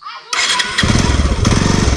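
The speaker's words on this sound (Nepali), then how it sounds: "बाइक ठिक छ राम्रै कुदिरहेछ" A motorcycle engine catches and then runs with a loud, close, steady throb on a rural road in Khotang, Nepal, with no speech over it.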